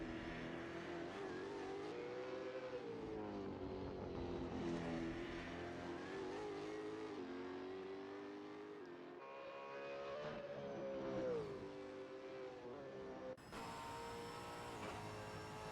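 A V8 Supercar is driven hard through a corner in a racing game at Adelaide. Its engine note climbs and drops through gear changes in a sustained, close roar with a sharp cut near the end.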